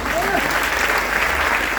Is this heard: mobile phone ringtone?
no